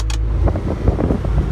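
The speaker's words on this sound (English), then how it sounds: "There's your air conditioner." Steady, loud air conditioning blowing inside the cab of a John Deere 544K wheel loader with 15,000 hours, a continuous broadband rush with a brief high hiss at the start.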